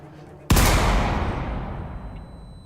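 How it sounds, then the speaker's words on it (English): A single sharp gunshot in the Danganronpa fan game Project Eden's Garden, a loud sudden crack followed by a long reverberant echo that fades over about two seconds. "The sound of a gunshot echoes in our ears."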